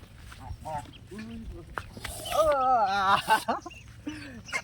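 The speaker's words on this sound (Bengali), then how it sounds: "হাঁস আর হাঁসের বাচ্চারে লয়ে এসেছি।" A duck with ducklings calling near a vegetable garden in Bangladesh, short quacks and peeps heard under excited talking that dominates the clip.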